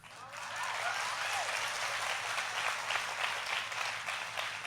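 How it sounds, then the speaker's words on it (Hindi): A live audience applauds at a Hindi comedy poetry show, a steady, dense wash of clapping that holds evenly for several seconds at moderate loudness. "अरे ताली बजा रहे हो"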